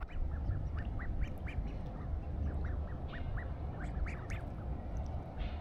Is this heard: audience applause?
no